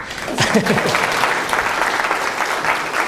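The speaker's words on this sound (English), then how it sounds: "This is where you clap for me." A conference audience breaks into sustained clapping at the close of a talk on remote collaboration, a dense, steady wash of many hands that stays loud for the whole stretch with no speech over it.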